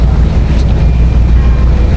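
Steady wind rushing across the microphone, a constant low rumble and buffeting with no voices, continuous throughout.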